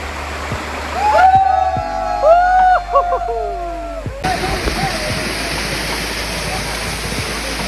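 A Sitakunda waterfall pours with a steady, loud broadband rush that runs throughout, briefly dipping while a tonal whistle-like sound and voices cut in near the start.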